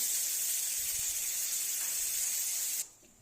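Pangas fish frying in a pan gives off a strong steamy hiss and spray of sizzling after water is added, holding steady before cutting off sharply near the end.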